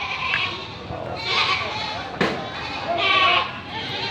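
Goats bleat a few times, fairly soft and spaced out, against a noisy outdoor background with a sharp knock partway through.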